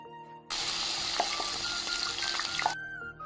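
A pumpkin flower dipped in egg and cornflour batter drops into hot oil and sets off a sudden loud, steady sizzle that lasts about two seconds and then cuts off, with a few faint pops along the way.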